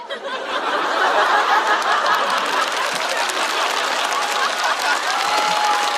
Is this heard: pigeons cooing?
no